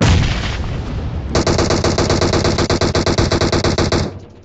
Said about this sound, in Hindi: मेरे पे फायर किया वो